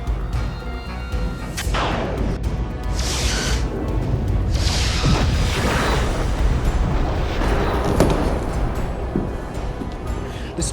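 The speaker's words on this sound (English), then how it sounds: "Battlecruisers are opening fire." Star Trek starship battlecruisers open fire in a space battle, with repeated booming weapon blasts and crashing explosions rolling over a dense, continuous rumble throughout.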